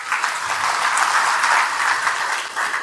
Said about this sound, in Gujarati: તમારા બધા માટે એકવાર તાળીઓ પાડો.